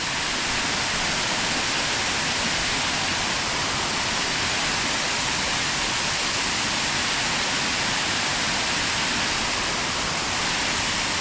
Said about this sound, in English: This is the start of the waterfalls.